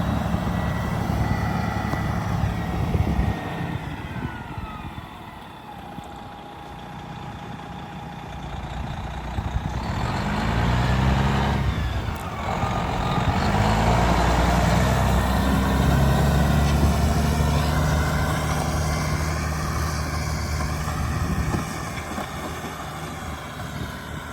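An old cabover truck that had been sold as a non-runner idles steadily, with a deep, rumbling engine running close and continuous and small swells in its drone throughout, and no voices over it.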